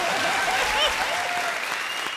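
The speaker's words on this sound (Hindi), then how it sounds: "इन तीनों के लिए ताली बजाइए." A studio audience at a comedy show applauds, dense continuous clapping close and loud, with faint crowd voices under it.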